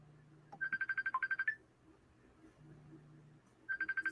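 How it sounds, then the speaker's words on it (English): A mobile phone ringtone plays as a rapid repeated electronic chirping tone in two bursts, moderately loud over a quiet low hum, with a pause between the bursts. "Is that my phone?"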